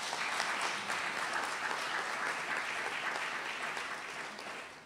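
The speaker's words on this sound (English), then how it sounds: "you can give a round of applause to this wonderful panel" A conference audience applauds a panel at an interreligious, cross-cultural education event, a dense, steady wash of clapping that holds for about five seconds and fades slightly at the end, with no speech over it.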